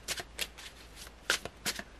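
Tarot cards being riffled and shuffled by hand in several quick, crisp bursts, close and fairly quiet, with short pauses between them and no voice.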